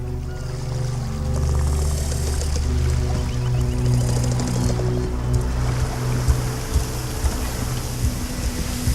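A sailing ship sets off across the waves in The Elder Scrolls Online, with steady rushing water and surf washing against the hull, a low continuous roar with occasional splashes, no voices.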